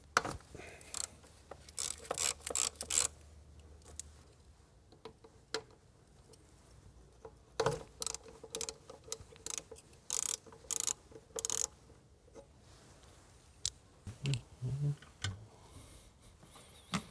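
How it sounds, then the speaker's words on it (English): A ratchet works loose 10 mm bolts on a 2014 Nissan Maxima 3.5, bursts of rapid clicking separated by quiet pauses and faint handling noises, close and fairly soft. "Let's try that route, which means I got to take some more bolts off."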